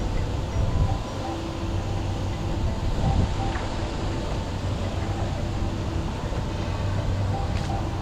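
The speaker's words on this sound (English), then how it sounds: "the monorail is coming" A Palm Jumeirah monorail rolls past a hotel in Dubai with a steady broad rumble and low hum that holds level throughout, a distant, continuous rail-car drone with no voices.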